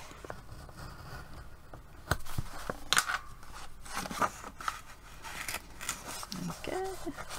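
Scissors snip and crunch through journal pages in a run of quick, crisp cuts and rustling paper tearing sounds, close to the microphone, with no voices over the cutting.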